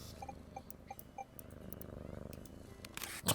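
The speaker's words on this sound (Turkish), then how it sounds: "Ha yine kedi sev." A cat purring while being petted in the video game TOEM, a soft low rumble under light game sound effects and scattered chimes, close and fairly quiet.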